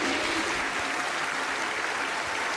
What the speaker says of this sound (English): Stop applauding yourself.